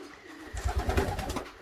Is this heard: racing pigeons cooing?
yes